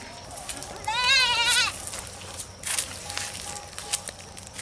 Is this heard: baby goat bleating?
yes